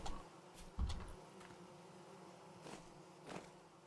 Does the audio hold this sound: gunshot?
no